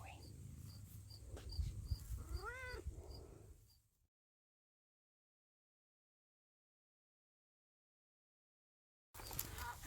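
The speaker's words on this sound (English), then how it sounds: "You just follow around meowing at me, don't you?" A garden cat meows in short rising calls close by, amid outdoor noise and chirping insects, before the sound cuts to silence.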